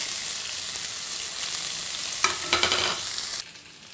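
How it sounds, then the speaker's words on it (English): Finely chopped onion and crushed garlic with fennel seeds fry in a pan, giving a continuous loud sizzle, then brief stirring scrapes before the sound drops away near the end. "Now we can add finely chopped onion."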